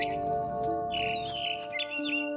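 Chirps and tweets of a bird in the video game What Remains of Edith Finch, several short high calls over a steady tonal game ambience, fairly close and moderately loud.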